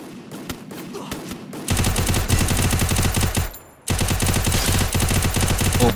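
An MP5 submachine gun fires in the Free Fire video game, starting with scattered shots and then breaking into two long, dense bursts of rapid automatic fire separated by a short gap.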